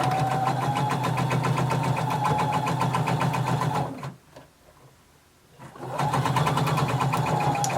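Sewing machine sewing a facing seam, a loud close rhythmic hum of stitching that drops out briefly in the middle before starting again.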